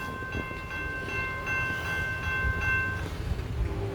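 A southbound train approaches a railroad crossing, its horn sounding steady, sustained tones over a low rumble of wheels on rails, moderately close and alone.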